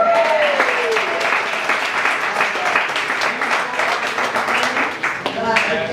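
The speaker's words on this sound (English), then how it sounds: "Give my wife a hand clap" Audience at a community townhall meeting clapping for the speaker's wife, a steady sustained round of applause with cheers and voices mixed in throughout.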